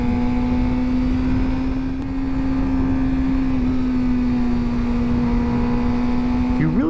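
2023 Suzuki GSX-R600 motorcycle engine running at a steady high-revving drone, loud and continuous throughout with a constant tone, rising slightly at the very end.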